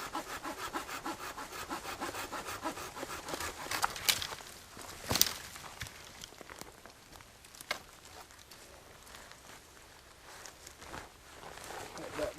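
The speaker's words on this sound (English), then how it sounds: "I'm going to cut this plenty long enough" Hand saw cutting through a wooden pole or branch outdoors, rapid rhythmic rasping strokes close by, with a few louder knocks and some slower strokes later.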